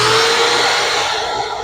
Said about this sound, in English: And I think I have to turn the vacuum on.